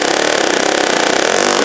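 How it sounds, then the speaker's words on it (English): A pneumatic air hammer works loose parts on a planter's closing wheel, giving a loud, continuous rapid rattling buzz close by, with no pauses and no talking. "The air hammer is a lot easier."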